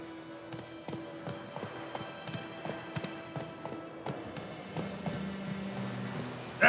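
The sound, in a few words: horse Roach galloping in video game The Witcher 3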